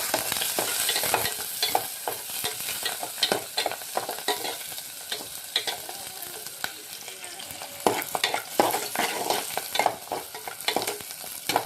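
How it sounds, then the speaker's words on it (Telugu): Curry leaves are stirred and fried in a pan: a steady, loud sizzle with repeated scraping clicks from stirring, close by and without speech. "తర్వాత కొంచెం కరివేపాకు, మనం దీన్ని ఒకసారి కలుపుకుందాం."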